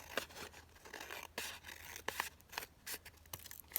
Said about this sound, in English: let's just cut this down on the side.